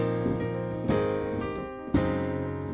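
Grandeur grand piano from Kontakt 5 at its default bright tone, playing a few sustained chords, each struck cleanly and left ringing, close and alone without talk.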